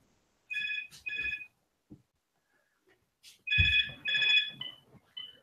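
A mobile phone ringtone plays in short bursts of bright, repeated electronic tones: two quick rings, a pause, then two more, with brief bumps and handling noise between them.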